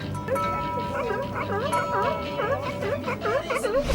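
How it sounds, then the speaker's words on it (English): Sea lions barking and bleating close by along the Redondo waterfront, a rapid series of wavering, nasal calls repeating over steady background noise and voices. "Up close and personal with the sea lions now."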